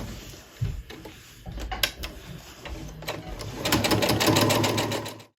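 Sewing machine stitching quilt fabric strips together for a Christmas tree quilt, running in short starts and stops before a longer steady burst of rapid needle chatter, close and alone.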